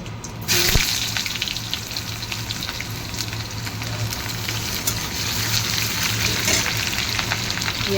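Fish frying in hot oil sends up a loud, continuous sizzle that surges at the start and then holds a dense crackling hiss without letting up.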